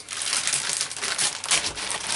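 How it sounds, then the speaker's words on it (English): Close, continuous crinkling and rustling of plastic bags wrapped around a Makita DMR106B job site radio as it is unwrapped, with no talk over it. "So it's all nicely wrapped up in some plastic bags"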